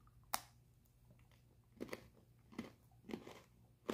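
Crisp crunches of Flipz snickerdoodle coated pretzels being bitten and chewed up close, one sharp bite followed by four more spaced crunchy chews in quiet surroundings.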